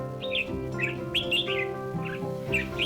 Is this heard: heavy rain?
no